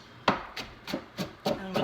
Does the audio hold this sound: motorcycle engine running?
no